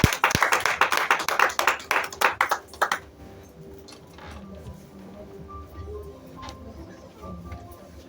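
A congregation in a French-speaking church claps in quick rhythmic bursts for about three seconds, loud and close, then the clapping stops and only a quiet room hum with faint scattered sounds remains.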